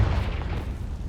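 A Confringo spell explodes in Hogwarts Legacy, a single deep, heavy boom that hits at once and rolls off in a rumbling tail lasting about a second.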